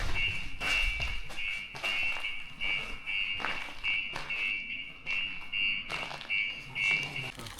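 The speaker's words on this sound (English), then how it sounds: "somebody has set one of the alarms off" A steady electronic alarm rings outside an abandoned shopping mall, a continuous high tone that keeps sounding throughout with faint scuffing and movement noises beneath it.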